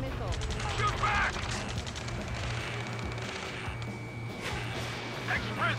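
Rapid gunfire bursts from a firefight in the video game Ace Combat 7 rattle steadily through the whole stretch, dense and loud, with voices shouting in the background and a low droning hum underneath.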